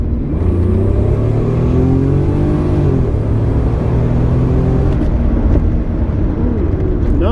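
A Rover 827SLi car accelerates hard, its engine note rising in loud, steady revving drones with gear-change dips, heard from inside the cabin without talk.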